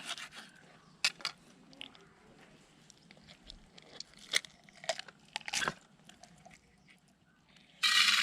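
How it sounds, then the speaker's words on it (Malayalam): Whole karimeen (pearl spot fish) rubbed with salt by hand during cleaning: scattered crunchy, gritty scrapes and rubbing bursts, close and moderately quiet, ending in a louder rough scrub. "ഇനി ഇതിൽ ഒന്ന് ഉപ്പൊക്കെ ഇട്ടിട്ട് ഒന്ന് ഉരച്ചു കൊടുക്കാം."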